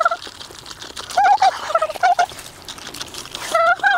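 Geese in a farmyard poultry yard honk in loud, clustered bursts, with a few sharp calls repeating and fading between quieter gaps, close by and with no talking.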